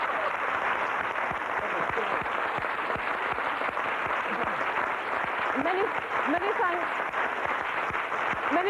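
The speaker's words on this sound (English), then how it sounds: "So let's have a round of applause before we go any further for Caryn and the team who've all worked so hard" A television studio audience at a late-1980s fashion show applauds, a dense, continuous roar of clapping that fills the room evenly for several seconds, with a presenter's voice heard faintly underneath.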